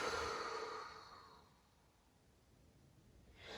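A long, loud open-mouthed exhale during a yoga breathing exercise, starting strong and breathy then fading to quiet over a couple of seconds, with a fresh breath rising again at the end.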